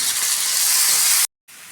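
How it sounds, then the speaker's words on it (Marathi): Onion and tomato sizzle on a hot griddle, a loud, steady hissing sizzle that cuts off abruptly for a brief silent gap before resuming more softly. "आता तव्यात कांदा देऊन भाजून घेतला आहे"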